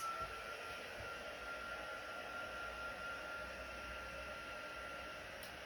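A heat tool blowing on alcohol ink artwork, a steady, constant whooshing hum of hot air running close and unbroken, with no talk.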